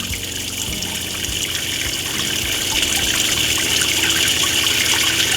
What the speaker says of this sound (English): we want just a nice steady stream coming out of there